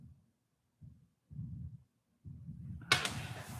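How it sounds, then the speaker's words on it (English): New Year's midnight fireworks go off in the distance, heard through an open door as a series of muffled low booms in separate bursts, then a sharper crackling burst at the end, with no one talking. "I can hear the fireworks."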